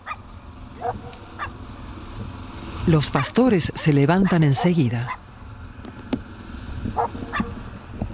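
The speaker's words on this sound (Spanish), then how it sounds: "De pronto los perros dan la alarma." Several shepherds' dogs in Romania bark in a burst in the middle, fairly close, while a voice speaks over the scene before and after.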